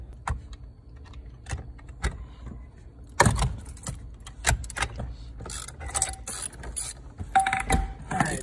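A 19 mm socket breaks loose and backs off a tight steering wheel nut on a Nissan Skyline R32 GTS-t, giving close metallic ratchet clicks and clinks in an irregular run of sharp taps and scrapes.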